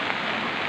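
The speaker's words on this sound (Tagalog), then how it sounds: "Medyo ulan-ulan man jud, bahay mga customer kaayo kay ulan kaayo." Steady rain falls around an outdoor resort with cottages and a swimming area, a dense, even hiss of drops on surfaces close by, continuous and without pause.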